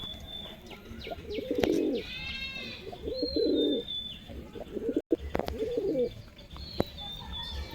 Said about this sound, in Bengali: এই যে দেখো, সব বড় বন্ধুরা কত সুন্দর পায়রা।